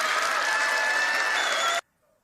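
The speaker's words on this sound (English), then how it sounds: "That was his biggest applause line." Audience applause at a Ron DeSantis political speech, a loud dense burst of clapping that holds steady and then cuts off abruptly into silence.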